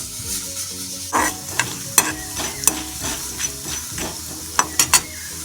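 Chana dal sizzling as it fries in a pan for bitter gourd pitlai, a steady close hiss broken by sharp spoon taps and scraping stirs against the metal.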